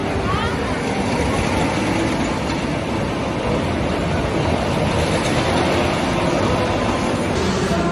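The Jetline roller coaster train at Gröna Lund amusement park roars loudly and continuously on its track, with dense rattling and wind noise throughout the ride.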